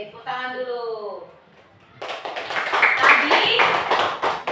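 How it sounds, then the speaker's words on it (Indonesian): A classroom group claps its hands after a short spoken line; the clapping starts abruptly and carries on as a dense, loud patter of many hands close by. "Oke, tepuk tangan dulu."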